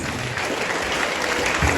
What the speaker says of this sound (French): je vous demande d'applaudir pour notre président de la République.